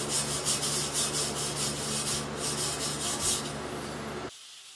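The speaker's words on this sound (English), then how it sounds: "now I'm just using an angle grinder with a wire wheel on it, just trying to get rid of all the rust from the bottom of the trailer" An angle grinder fitted with a wire wheel scours rust off the underside of a lawn and garden tractor dump trailer, giving a steady close abrasive rasp that cuts off abruptly near the end.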